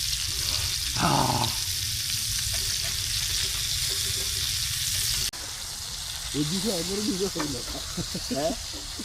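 Bral, a snakehead fish, fries in a pan with a loud, steady hiss of hot oil that runs throughout, while a person talks over the sizzle.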